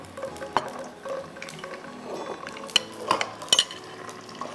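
Chicken fries in a pan with ginger garlic paste, a soft steady sizzle under clinks and scrapes of a stirring utensil against the pan, heard close up.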